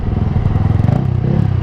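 A Yamaha R15 V3 motorcycle with a Ronin Hanzo aftermarket exhaust in racing mode rumbles close by with a throaty, pulsing exhaust note, revving steadily throughout.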